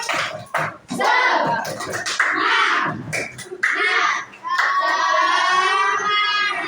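Indonesian schoolchildren do a quick rhythmic spirit clap in unison, mixed with loud group chanting and shouting voices close by.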